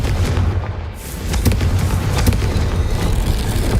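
A fiery explosion spell goes off in a video game with a loud, close boom, followed by a dense, rumbling crackle that carries on to the end.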